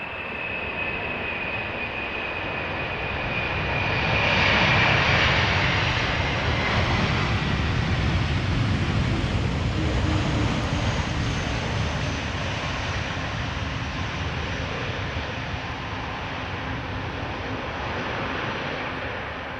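A jet airliner lands in a crosswind at Amsterdam Schiphol Airport, a loud broad engine roar that swells as it passes nearby, then settles into a sustained rumble of idle reversers and rolling.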